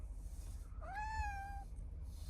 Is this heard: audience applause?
no